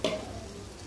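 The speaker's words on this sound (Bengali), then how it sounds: "জিরা বাটাও ছিল আদা রসুনের সাথে, এটা ভালো করে ভাজবো" Cumin paste with ginger and garlic frying in a pan: a quick stir clatter at the start, then a soft, steady sizzle close by.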